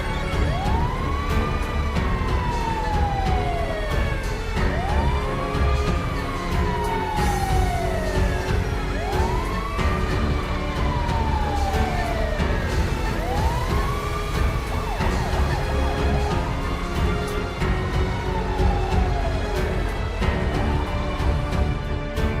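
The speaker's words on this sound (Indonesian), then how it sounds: "dan akhirnya ambulan pun berangkat untuk segera menyelamatkan nyawa supir" An ambulance siren wailing as the vehicle departs to rescue an injured cargo truck driver on the road, a loud, close, repeating rise-and-fall sweep cycling about every three seconds over traffic rumble.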